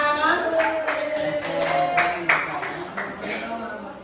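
Pupils in an Islamic school classroom clap together, a steady run of claps over several seconds, somewhat distant, with a voice talking over part of it.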